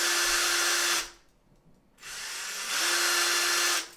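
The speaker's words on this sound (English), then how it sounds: "So I might just ream the hole out a little bit from the other side." A power tool reams out a hole in a model build, whirring loudly in two sustained bursts with a steady whine, separated by a brief quiet gap.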